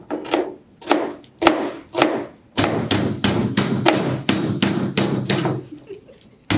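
A pork cutlet for katsudon being pounded thin with a mallet, loud close thuds landing one by one at first and then in a fast, continuous rhythm; a voice is faintly heard between blows.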